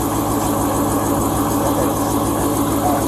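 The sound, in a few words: car engine idling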